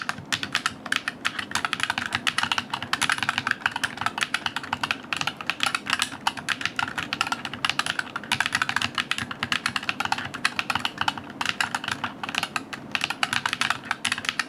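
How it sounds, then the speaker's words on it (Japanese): Rapid continuous typing on an EYOOSO HZ61 rapid-trigger keyboard with wobbly key stems, a loud, clattery stream of keystrokes close up and steady throughout with no voices. "打鍵音は結構ガチャガチャ鳴って、うるさく感じる人もいるのかなっていうような音"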